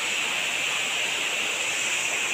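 Batlag Falls waterfall pouring in a steady, dense rush of white-noise water, close and continuous with no voices.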